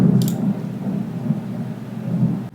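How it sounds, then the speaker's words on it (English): Low rolling thunder rumbles steadily through a thunderstorm, a faint continuous growl with soft rain-like hiss and no voices. "Can you hear the thunder?"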